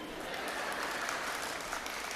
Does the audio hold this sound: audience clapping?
yes